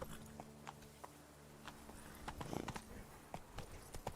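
Roach the horse walks in The Witcher 3, hooves clip-clopping in a steady rhythmic series of soft, close thuds over a quiet ambient bed.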